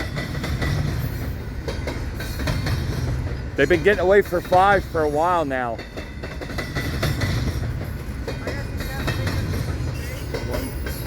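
A freight train rolls past with brand-new Trinity Rail railcars, a steady rumble of rail noise and wheel clatter running through the whole stretch while people talk over it near the middle.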